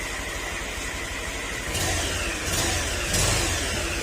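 A Honda Click 125 scooter engine with a faulty bearing runs close by with a rough, buzzing whine and a steady grinding undertone, rising slightly in pitch as it's revved a few times.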